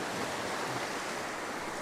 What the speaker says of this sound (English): Some nice wave movement at the moment.